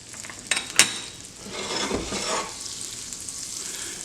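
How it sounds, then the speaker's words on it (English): Butter sizzling lightly in a preheated pan for eggs, a soft crackle with a couple of sharp taps early on and a brief swell of frying near the middle. "you can see how it's melting and lightly sizzling"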